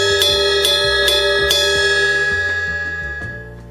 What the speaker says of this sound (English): You tend to hit the bell with the shoulder of your stick rather than the head.